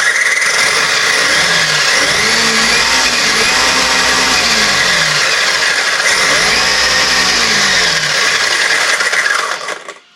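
An Arrma Mojave RC car held at full throttle on a stand, its electric motor and drivetrain whining loud and steady with rising and falling pitch sweeps, running continuously before cutting off at the very end.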